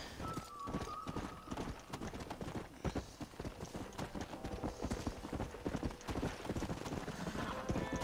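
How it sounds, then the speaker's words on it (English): Hoofbeats of a horse galloping in the video game Red Dead Redemption, a continuous rapid drumming of clip-clops with a brief whinny near the start, fairly quiet overall. "Horse."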